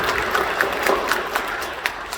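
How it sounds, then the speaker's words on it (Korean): Church congregation at a 3040 worship service in Incheon Full Gospel Church clapping, a moderate and fairly steady patter of hands with a few sharper claps standing out. "박수로 격려해 주시죠."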